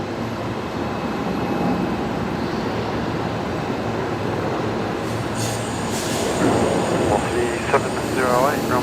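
A Qantas airliner in oneworld livery arrives on runway 01 right at Brisbane Airport, a broad, steady roar of jet engines heard at a distance, with voices talking over it.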